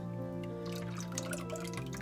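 A lye solution of water and beer pours into soap batter with soft, close splashing and trickling over a faint steady hum, no voices.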